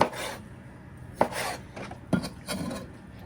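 A knife dices fruit on a wooden board in a home kitchen, giving a few separate, close chopping knocks and scraping strokes spaced about a second apart, with no talking.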